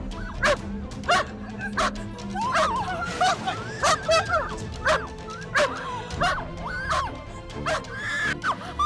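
Several dogs bark repeatedly in sharp, loud yaps with some whimpering mixed in, a steady run of barks over a low background.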